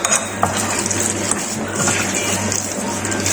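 Chicken sandwich filling being mixed in a bowl, with soft scraping and clinking of a utensil against the bowl under steady background noise.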